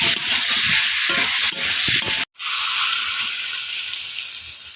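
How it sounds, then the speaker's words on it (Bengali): Fish curry being stirred in a hot pan, first with a crackling sizzle and scraping strokes, then after a brief gap a broad steady hiss once water is poured in. "2-4 বার নেড়ে ফেড়ে জল ঢেলে দেবো।"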